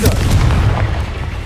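A Confringo spell blast in the Hogwarts Legacy video game, a loud booming burst at the start that rumbles and fades out over a second or so.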